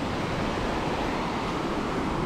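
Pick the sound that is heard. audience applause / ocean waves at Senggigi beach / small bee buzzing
ocean waves at Senggigi beach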